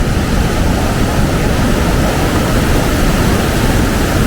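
Loud, continuous broadband roar of a large waterfall carrying heavy flow, steady and close with no pauses or voices.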